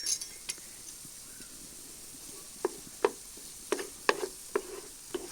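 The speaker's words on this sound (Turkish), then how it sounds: "Salçamız da kavrulacak biraz." Tomato paste frying with onions in a pan over a calm outdoor stove flame, a soft steady sizzle with several sharp clinks of a utensil against the pan in the second half.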